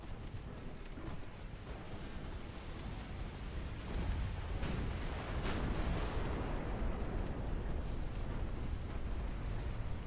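Naval gunfire from light cruisers' 7-inch guns in a warship video game booms out over steady wind and sea noise, with a sharp, loud report near the middle of the stretch.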